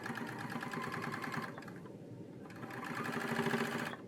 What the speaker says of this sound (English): I'm just gonna give it a little top stitch